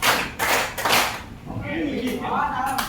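Rhythmic hand clapping led by a host calling out clap counts, a few sharp claps early on, then a voice talking over quieter background sound.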